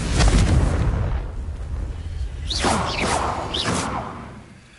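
The Confringo fire spell in the video game Hogwarts Legacy: a heavy booming explosion with a deep rumble, then rising whooshing and crackling bursts of fire that fade out.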